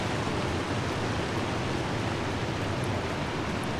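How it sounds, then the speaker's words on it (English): Waterfall ambience in a video game, a dense, unbroken roar of rushing water that stays loud and even throughout with no voices. "I think the audio adjustment for the waterfalls has gone back to what it was"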